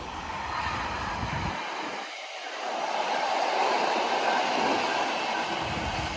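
A train rumbles along steadily with a broad roar of wheels and carriage noise, constant and loud throughout with no talking.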